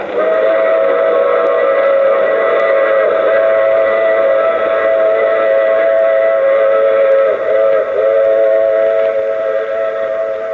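Steam train whistle sounding as a sustained, loud multi-tone blast for about ten seconds as a radio drama sound effect, with a steady rumble of the moving train underneath.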